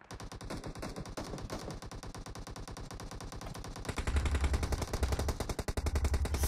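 Sustained automatic gunfire in the mobile battle-royale game PUBG Mobile, dense rapid bursts continuing throughout and growing louder and heavier near the end, with no talking.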